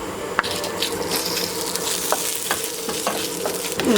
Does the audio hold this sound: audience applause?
no